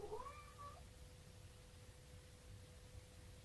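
A pet cat gives a single short, faint meow at the very start, then only a steady quiet hiss and a low hum remain indoors.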